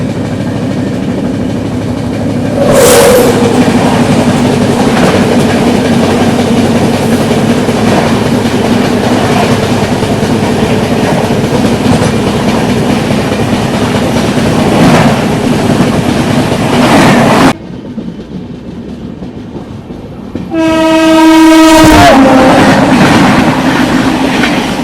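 Humsafar Express passenger train rumbling steadily past at close range with continuous clattering wheels, then a loud sustained horn blast near the end, after a brief quieter gap.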